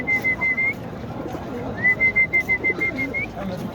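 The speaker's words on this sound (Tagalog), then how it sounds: "ganda ng mga kalpating puti dito" White pigeons at an animal market call with a repeated series of short, even, pulsed notes in two bursts, clear and fairly close, with no talking over them.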